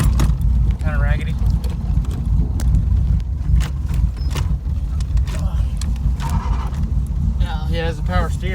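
Power steering on a Third Gen Camaro making brief rising whines as the wheel is turned sharply, over a constant close engine rumble.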